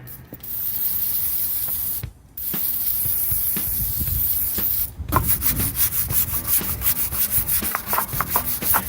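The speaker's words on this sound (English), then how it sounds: "brush it in, blast it off with brake cleaner" Brake cleaner sprayed from an aerosol can to blast degreaser off a part before painting, steady loud hissing bursts broken by two short pauses, then choppier spurts toward the end.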